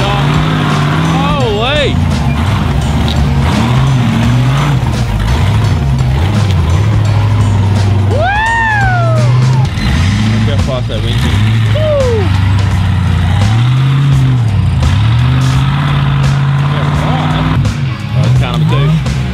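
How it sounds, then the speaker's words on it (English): Several 4WD crawler cars drive in one after another, their engines revving in repeated rising and falling surges, loud and close, with excited voices cheering and talking over them throughout. "First car coming in."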